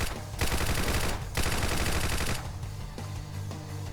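Sustained bursts of AKM automatic rifle fire in the video game Decaying Winter, loud and close, with short pauses between rapid volleys.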